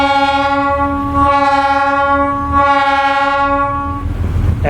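Short horn blasts from a train-style air horn sound out at a railroad swing bridge as it prepares to close, a loud sustained chord with steady harmonics, pulsing in brief repeated blasts before cutting off near the end.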